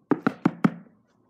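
Four quick, evenly spaced knocks on a front door, close and loud with no one talking, followed by a short silence.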